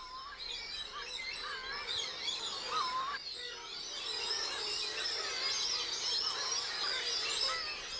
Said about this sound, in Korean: 봄밤 사수도는 짝을 찾는 슴새들의 울음소리로 가득하다.